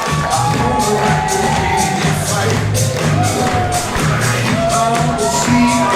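A wrestling crowd cheers loudly as a flashy wrestler enters the ring at a pro wrestling event near Omaha, with continuous dense cheering, scattered shouts and whoops, and excited voices overlapping, close and sustained.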